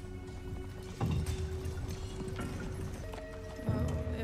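Horses hung with chimes clip-clop along at a steady walk, hooves thudding under a continuous bright jingle of chimes, with a brief whinny and a low background hum.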